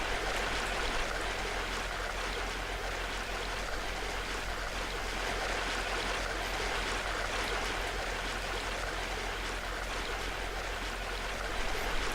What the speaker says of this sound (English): This is what happens if you've got a waterfall screensaver.